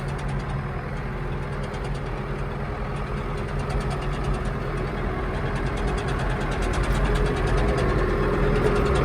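A Ford 7700 Dual Power tractor's diesel engine idles steadily close by, a continuous low rumble with a faint knocking rhythm, its level creeping up slightly toward the end, with no talking.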